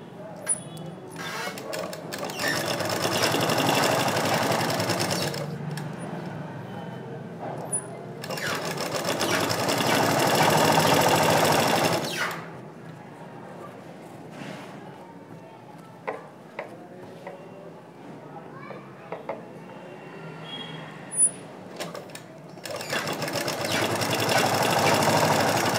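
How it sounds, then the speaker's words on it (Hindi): A sewing machine stitches the side seams of a ready-made lehenga in a boutique, running in long bursts of fast, steady whirring with quiet pauses between them while someone talks. "चारों को सेम ऐसे ही सिलाई करूंगी मैं"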